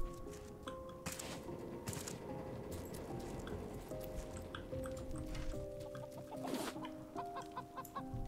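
A chicken clucking in the survival game Raft, repeated short clucks and squawks over a steady game ambience, fairly close and moderately loud.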